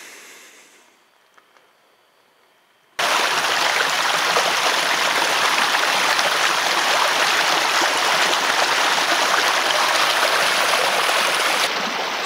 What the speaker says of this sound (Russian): Спустился к ручью набрать водички.